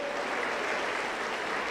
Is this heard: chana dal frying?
no